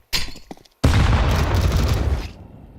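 Counter-Strike gunfire during a pro league match: a short burst of shots, a brief pause, then a loud sustained volley of rapid booming fire that cuts off sharply after about a second and a half.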